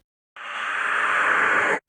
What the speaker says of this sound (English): So right to the breakdown, there's a reverse effect